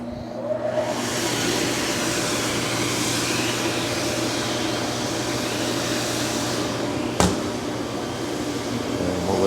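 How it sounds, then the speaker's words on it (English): Vacuum on the oven of a Ricoma REVEL DTF-2402 DTF printer runs as a loud, steady whooshing drone from start to finish, with a single brief click partway through. "I turn on the vacuum."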